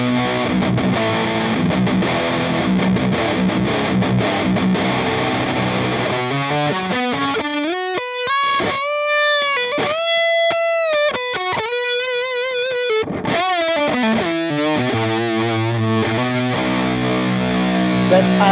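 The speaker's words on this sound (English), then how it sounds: "So let's go through some sounds. This is the ENGL" A heavily distorted electric guitar through an ENGL E412XXL cabinet simulation plays chugging metal riffs and sustained notes, loud and saturated throughout, with no voices.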